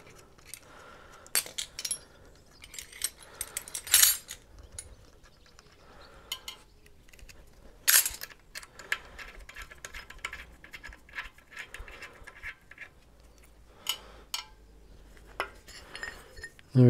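Metal clinks and jangles of a flange taper lock and its bush being separated by hand, part of an electric car conversion drive system, as a series of sharp, irregular knocks and rattles close by over a low background.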